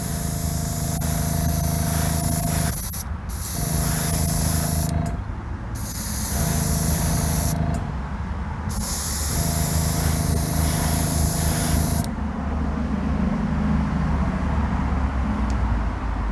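Spray gun laying a coat of paint on a Porsche, a close continuous hiss running in several long passes broken by short gaps, over a steady low mechanical hum.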